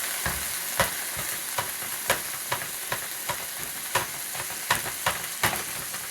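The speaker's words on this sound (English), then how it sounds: "There's my meat. Now, I don't know if you can hear it sizzling or not" Ground turkey browning in a pan, a soft continuous sizzle close by with periodic louder scraping knocks from stirring, no talking.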